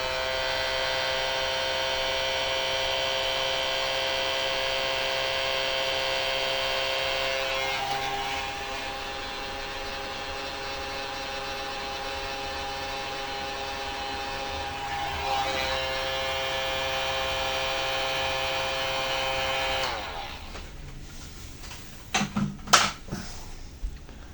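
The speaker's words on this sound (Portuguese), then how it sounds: "Vou vir agora com o soprador para eles encolherem" A heat gun blows hot air to shrink heat-shrink tubing while building a Star Trainer model airplane, a steady whirring hum that shifts in pitch and fades out near the end, followed by a few clicks.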